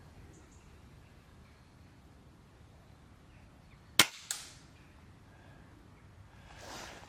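A single sharp rifle shot at a target cracks out close during a Falcon Endura S10i scope test, quickly followed by a fainter second report or echo over quiet outdoor background.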